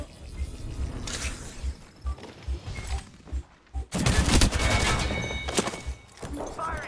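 Gunfire in an online shooter game: a series of sharp, punchy shots at first, then a dense, sustained burst of fire, heard close and loud with a few short clicks at the end.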